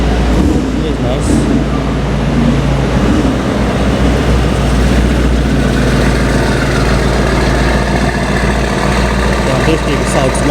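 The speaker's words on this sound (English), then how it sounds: "There's so much people turning on their car." Several cars idle together at an outdoor car show in Dubai, including Mercedes wagons, a steady dense rumble of engines that stays loud and unbroken throughout.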